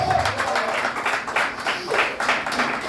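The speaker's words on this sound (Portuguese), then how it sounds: "Pode dar uma salva de palmas para Jesus?" Dense applause from a large church congregation, steady and continuous throughout.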